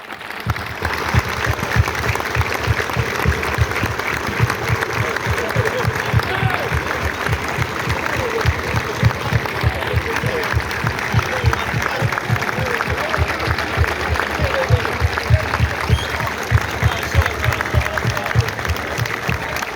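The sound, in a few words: one-minute standing applause at football tournament opening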